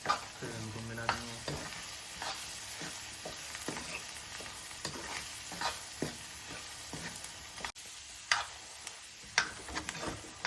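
Ker sabzi cooking in a pan, stirred repeatedly: soft scraping and clinking strokes in an irregular rhythm over a faint background sizzle, close and fairly quiet.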